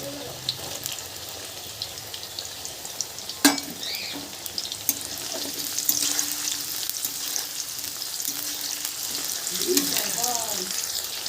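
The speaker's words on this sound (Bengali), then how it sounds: "হালকা লাল করে ভাজবো সমস্ত সবজিগুলোকে" Mixed vegetables, beans and cauliflower among them, fry in a pan for a vegetable dal, giving a constant close sizzle with a sharp clang of a utensil and occasional stirring scrapes; a faint voice surfaces briefly near the end.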